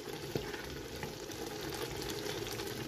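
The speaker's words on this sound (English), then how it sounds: "So guys, everything is boiling now, or it's cooking" Cameroon eru ingredients cook in oil in a pot, giving a steady, fairly quiet sizzle and bubbling that runs evenly throughout, with a faint clink near the start.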